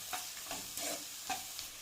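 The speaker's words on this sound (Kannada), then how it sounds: "ಇವಾಗ ಮತ್ತೊಂದು ಸರಿ ಚೆನ್ನಾಗಿ ಫ್ರೈ ಮಾಡ್ಕೊಳ್ಳಿ" Onion with ginger garlic paste fries quietly in a pan, with soft sizzling and a few brief scraping stirs of a spoon at irregular moments, no voices.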